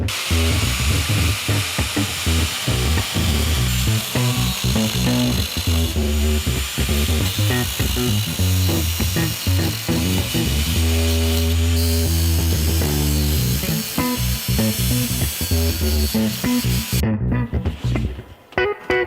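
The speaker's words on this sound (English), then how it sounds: "But what we're gonna do is just cut the barrel in half" A power tool cuts the hinge barrel of a Pontiac Firebird door in half, producing a loud, continuous grinding whine with a rapidly pulsing rhythm that runs almost the whole time before stopping abruptly near the end.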